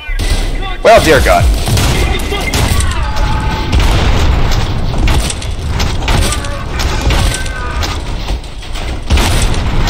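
Loud, dense shotgun blasts and booming impacts from the first-person shooter Trepang 2, continuous and heavy across the stretch, with a voice speaking briefly over them.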